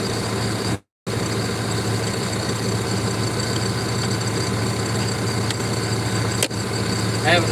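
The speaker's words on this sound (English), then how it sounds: "Out of my tractor all the way down. Turn my PTO on." A farm tractor runs with its PTO engaged for corn shelling, giving a steady, close, low idling rumble with mechanical vibration that holds throughout, interrupted only by a brief cut near the start.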